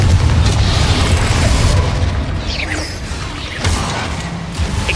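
A Confringo fire blast spell bursts in the Hogwarts Legacy video game, a loud, booming explosion with a rumbling low roar and crackling swooshes that fade and surge again.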